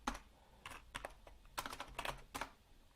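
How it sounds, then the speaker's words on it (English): Typing on a computer keyboard while setting up a LinkedIn ad campaign: several short bursts of quick, close key clicks with brief pauses between them, moderately loud in a quiet room, no talking. "here I might be typing in"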